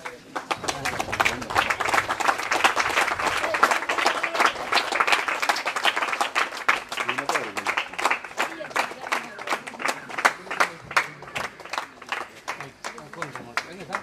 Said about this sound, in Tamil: எல்லாம் கைதட்டுங்க